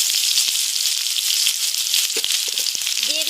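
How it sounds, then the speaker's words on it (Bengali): Chopped onions hit hot oil already holding bay leaf, cumin and whole garam masala, giving a loud, dense, continuous sizzle close up with a few faint utensil knocks and no voices. "এখন আমি তার মধ্যে দিয়ে দিব পেঁয়াজ কুচি"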